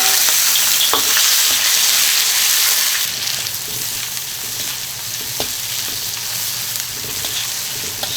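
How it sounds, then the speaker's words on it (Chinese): Pork fat hits a hot wok and erupts into loud, close sizzling that eases after a few seconds into a steadier frying crackle with scattered pops. "把肥肉放下去"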